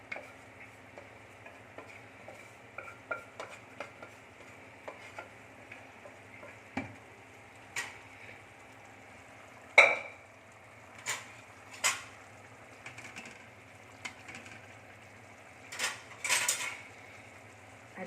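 Vegetables for pav bhaji being stirred and mashed in a pan, with a faint low sizzle under scattered scraping and knocking clicks, sharper spatula taps near the middle and end.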